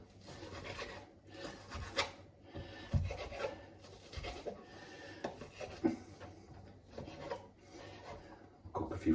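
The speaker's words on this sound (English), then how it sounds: "I'm just going to cut it into lovely chunks" Knife slicing through raw meat into chunks on a board after trimming the fat, giving repeated soft rasping cuts and scrapes with scattered thuds at close range, no talk.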